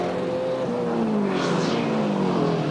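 Race cars at Amaroo Park in 1989, heard as a loud, continuous engine roar whose pitch falls as the cars run downhill, with a brief passing surge in the middle.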